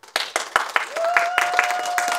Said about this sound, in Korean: 리버과 스마일링 두 팀의 공연 박수로 시작하도록 하겠습니다